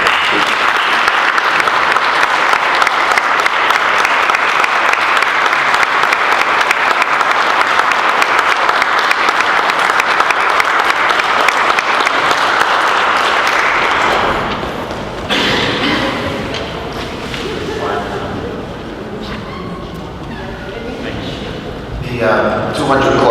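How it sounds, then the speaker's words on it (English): Dense, sustained audience applause at a city council meeting in Elizabeth, New Jersey, steady and loud for about fourteen seconds before dying away into room noise and talk. "Let's give a round of applause."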